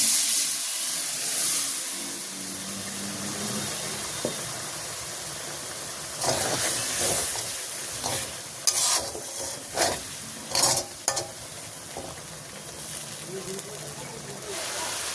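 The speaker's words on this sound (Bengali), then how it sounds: "আমি এখন বাটি ধোয়া জলটা দিয়ে দেবো।" Bowl-rinsing water poured into a hot pan on a village kitchen stove, giving a close, steady hiss and sizzle with bursts of louder crackling midway, while someone talks briefly.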